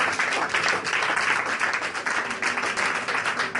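A church congregation claps and applauds in acclaim for Jesus, a steady, even wash of many hands that stays fairly loud and unbroken throughout.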